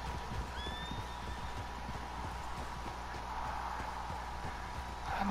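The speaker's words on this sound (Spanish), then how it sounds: "Ay, mira, caballos, qué lindos son." Horses in the Red Dead Redemption 2 game world clop steadily at moderate distance, with a soft whinny and a faint ambient bed behind the hoofbeats, no talking.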